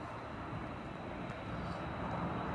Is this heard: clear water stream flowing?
no